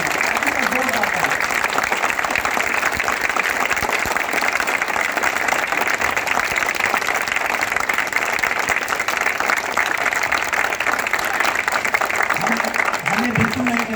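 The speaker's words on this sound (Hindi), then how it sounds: "एक बार आप सबके लिए अस्मिता जोरदार तालियां।" Loud, sustained audience applause for the Asmita street theatre group at a nukkad natak performance, even and continuous, with brief voices breaking through at the start and end.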